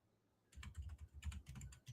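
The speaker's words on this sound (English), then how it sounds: "It's a banging loud keyboard." Loud PC keyboard being typed on with rapid, uneven clacking keystrokes in bursts, close and fairly quiet overall after a brief silent start.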